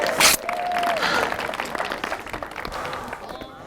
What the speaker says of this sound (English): please give Kenny a big round of applause